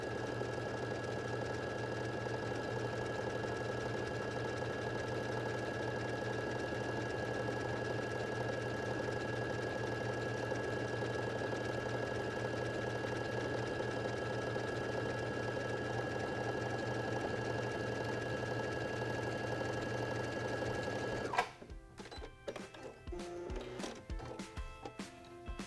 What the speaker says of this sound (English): I'm going to actually stitch that stitch again